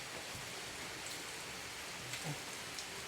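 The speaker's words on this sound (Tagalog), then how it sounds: "Tagal tumigil ng ulan." Steady, faint rain falls in a constant hiss, with a few soft drips standing out in the background.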